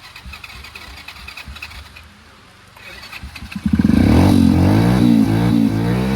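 A motorcycle engine sits quiet under a few faint clicks and clatter, then starts near the four-second mark. It revs loudly and close with a throbbing idle that holds to the end.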